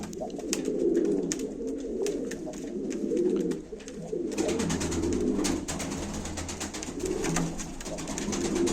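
Pigeons coo steadily at a live pigeon auction, low rolling calls repeating close by in overlapping waves, with background noise and faint clatter but no clear talking.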